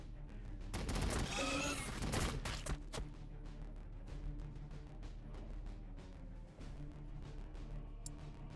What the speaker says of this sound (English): Heavy fire support. Open fire!